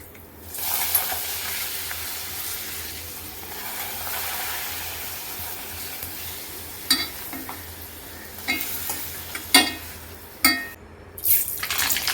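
Pappadam frying in coconut oil gives a low, steady sizzle that swells and settles, broken later by a few sharp clinks and splashes close by.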